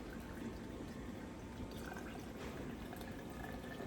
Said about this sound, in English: But I always just run my stock through a cheesecloth.